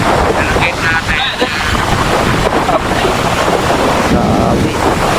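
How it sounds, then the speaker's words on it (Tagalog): Floodwater waves surge against the gate of a hut in a steady, rough wash of water and wind buffeting, loud and close, with excited voices talking over it. "Yan na po ang alon, no?"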